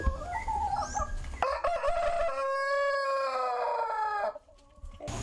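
Native criollo chickens mixed with young COP broiler chicks on a farm, giving clucks and crowing-like calls that rise into a sustained harmonic squawk near the microphone, then drop away abruptly.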